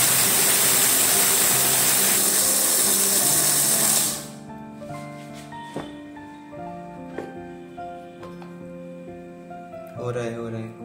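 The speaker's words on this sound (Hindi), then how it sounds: "सो फ्रेंड्स, मैं थोड़ा थोड़ा करके ग्राइंड करता हूँ।" A kitchen grinder processes ingredients for pitha with a loud, dense whirring buzz for about four seconds, then cuts off. Quieter clinks and handling noises follow, and a voice speaks near the end.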